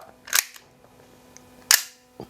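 Two sharp metallic clicks of a Tokyo Marui Glock 26 airsoft pistol slide racking, close and crisp, with a few faint ticks in between.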